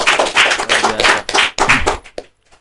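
A small podcast studio audience claps briskly for a couple of seconds, then the applause stops abruptly into near silence.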